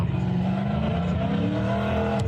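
Corvette-suspension race cars with 700-horsepower LS engines roar past in a steady, deep, loud engine drone with no pause across the whole moment.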